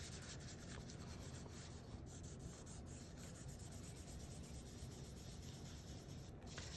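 A blending stump rubs steadily over graphite shading on paper while a fabric still life is being drawn, a soft, continuous, faint scratchy rubbing heard alone.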